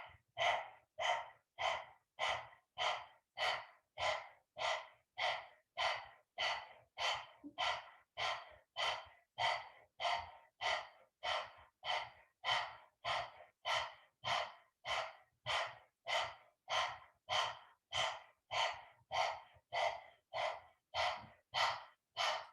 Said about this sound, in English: Sticking the tongue out and panting like a dog through the mouth.